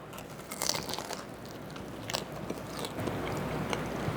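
Crispy garlic bread lasagna being bitten and chewed up close: a couple of sharp crunches early on, then steady wet chewing with small crackles, and no talking.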